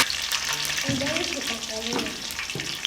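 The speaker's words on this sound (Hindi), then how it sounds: "मिर्चों को थोड़ी देर फ्राई करने के बाद अब सालन मिर्चें निकाल लें" Stuffed capsicum peppers fry steadily in hot oil with keema, a constant close sizzle broken by a few sharp clatters as they are moved in the pan.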